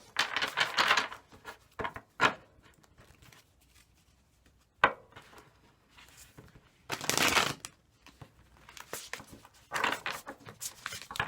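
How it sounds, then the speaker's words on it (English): Cards being pulled and shuffled from a Starseed Oracle deck, giving several short bursts of close papery riffling and flicking separated by quiet gaps. "Let me pull you an oracle card."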